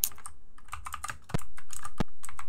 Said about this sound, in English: I love how you can just hear his keyboard